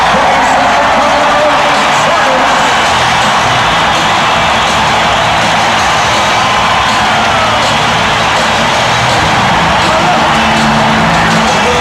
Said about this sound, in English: The crowd is going crazy here.